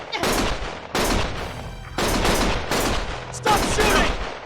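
Gunfire in the video game Lost Judgment: loud, close bursts of rapid shots in three or four blocks, each starting abruptly and cutting off, with a voice faintly mixed in.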